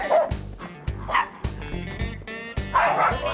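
A small chihuahua gives a rapid series of sharp, high yips and barks, close by, with a few whiny notes mixed in and no other voices.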